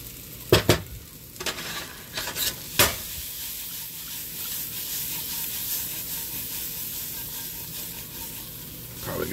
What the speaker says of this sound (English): we're going to dump in mushrooms and steak